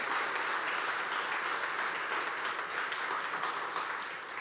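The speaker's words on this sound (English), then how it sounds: "Let's give them a big round of applause." Steady, dense applause from a large audience at a union district keynote event, a continuous wash of many hands clapping at even loudness throughout with no talking.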